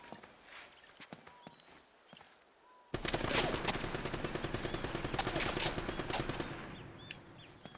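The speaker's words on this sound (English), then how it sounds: "that's the machine gun" Rapid machine gun bursts in the video game Uncharted: Drake's Fortune, a dense sustained volley of shots starting abruptly after a quieter stretch of scattered sounds and tapering off near the end.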